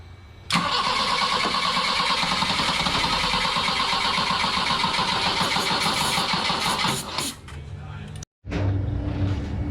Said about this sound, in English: Give it another go without the throttle.